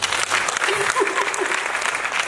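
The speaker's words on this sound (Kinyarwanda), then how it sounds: "Yewe ndabona twamuha amashyi menshi" An audience claps continuously and fairly loudly, a dense steady wash of applause with a faint voice underneath.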